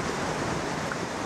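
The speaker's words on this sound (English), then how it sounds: "how the water is rushing over the rocks" Water rushes over rocks at Sunwapta Falls in Jasper, Alberta, a steady broadband roar that stays even throughout and is heard up close with no voices.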